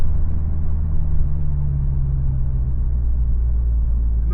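A Toyota 86 boxer engine and exhaust under acceleration inside the cabin, a loud steady low rumble with a faint rising engine tone, no talking.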